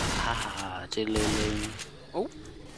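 Gunfire in the zombie shooter Left 4 Dead 2 crackles in loud bursts through the clip, mixed with game sounds and voices talking over it.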